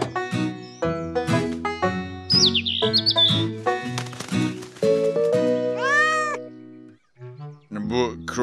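A cat meows several times with rising, drawn-out cries, mixed with chirpy cartoon-like sounds and voices.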